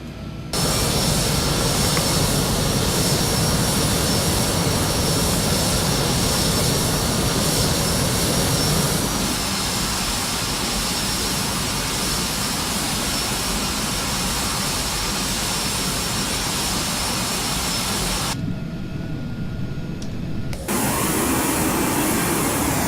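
A Cessna S550 Citation II jet landing in the Prepar3D flight simulator at Cancun, a loud steady roar of jet engine noise throughout, with a short drop in the upper hiss near the end.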